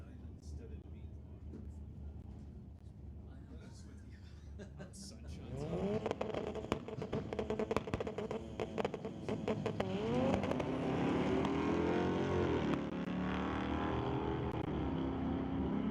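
A 71 Chevelle and a turbocharged front-wheel-drive 91 Civic launch side by side at a drag strip, engines rising from a quiet idle into a loud, sustained roar with climbing gear-change sweeps, while an announcer talks over the racing.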